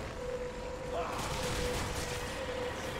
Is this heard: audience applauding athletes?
no